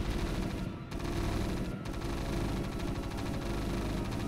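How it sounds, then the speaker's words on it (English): Units in the video game StarCraft fire in a rapid, continuous machine-gun-like rattle that stops twice for a moment, fairly quiet overall, with no voices. "Shoot whoever is the most appropriate target to shoot."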